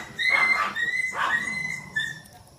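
Dogs at a home in the Philippines bark and yelp in short excited bursts, three or four loud calls with whiny tonal edges, close by and with no speech.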